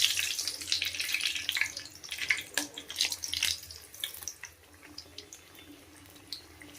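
Fish pieces fry in hot oil over a lowered gas flame, a bright, hissing crackle with quick pops, strongest at first and then settling into a quieter sizzle.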